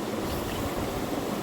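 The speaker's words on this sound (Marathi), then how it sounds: "माठ भरायचा आहे अजून पाण्याने" Water pours into a clay pot (matka), a continuous, close rushing splash without breaks for the whole moment.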